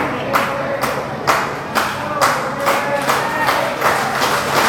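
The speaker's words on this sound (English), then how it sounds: "Listen to the fans in unison cheering on Matt Gilbert." Wrestling fans clap together in a steady, rhythmic beat of about two claps per second, with crowd noise filling the hall between claps.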